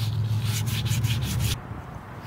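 Wet sanding a Mazda Miata valve cover gives a close, rhythmic scrubbing of about six even rasping strokes, then stops abruptly and leaves quiet room tone.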